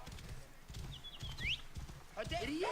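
A horse's hooves clip-clop at a steady walking rhythm while riding in Assassin's Creed Origins, fairly quiet and mixed with other game sounds and a brief whinny-like cry.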